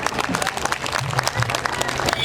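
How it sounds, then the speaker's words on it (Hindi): Audience at an annual cultural program in a hall claps together, a lively, fairly loud burst of many hands with irregular peaks, a few voices faintly mixed in underneath. "ताली बजा के बताएं।"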